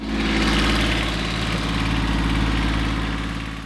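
The inboard engine of a converted sailboat cruising Europe's inland waterways in winter runs at a steady, loud, close-up chug, a constant low rumble with mechanical vibration throughout.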